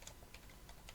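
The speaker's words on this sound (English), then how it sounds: "you can type your little message in here" Keys clicking on a computer keyboard as a short message is typed into office software, a few quick near taps spread across one second with no talk.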